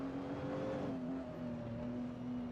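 A Lamborghini in a racing video game at Suzuka holds a steady engine drone, its pitch easing down slightly as it carries on alone at moderate volume.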